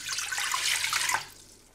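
Water, 600 ml, pours into a large cooking pot as a steady splashing stream for about a second before fading out, with no talking.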